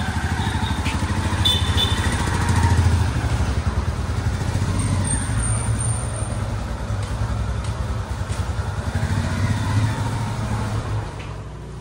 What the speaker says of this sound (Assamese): আৰু বাইক মই চলাই আছোঁ